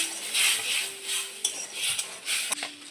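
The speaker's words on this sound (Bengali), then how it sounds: "দিয়ে এটাকে আমি ভালো করে নাড়বো।" Spicy semolina with a splash of water and garam masala is stirred in a pan, producing soft scraping and light metal clinks over a low sizzle.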